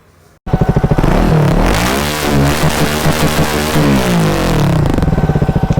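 A Triumph Speed 400 motorcycle engine starts with a sharp burst and revs up and down loudly and close by, throttle blips pulsing near the end.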